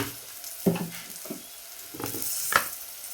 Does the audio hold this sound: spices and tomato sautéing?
yes